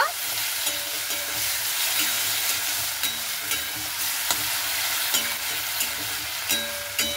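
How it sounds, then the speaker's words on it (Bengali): Chopped spinach with turmeric is stirred in a frying pan, giving a loud, continuous hissing sizzle. Regular spatula scrapes and knocks against the pan recur every second or so. "কেটে রাখা শাকটাকে দিয়ে খুব ভালো মতো করে নাড়াচাড়া করে নেব।"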